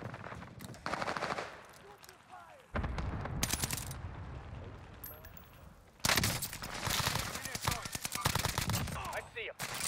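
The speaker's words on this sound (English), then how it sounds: "Send the airstrike here." Airstrike in Call of Duty Warzone: loud bursts of rapid gunfire and heavy explosive blasts hit in waves, with sharp onsets near three and six seconds, while voices talk over the barrage.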